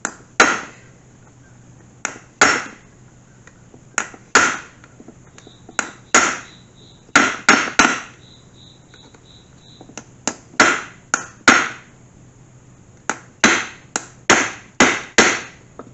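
Sharp metal hammer blows drive a drift into a C3 Corvette Sting Ray transmission, striking in quick clusters of two to four hits with short pauses between, close and loud with a ringing metallic edge.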